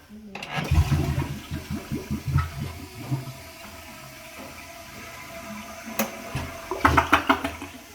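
A one-piece toilet flushes with a rushing gurgle of water, then the tank refills with a softer trickle before another brief surge near the end.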